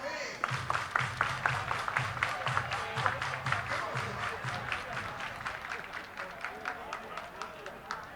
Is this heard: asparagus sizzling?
no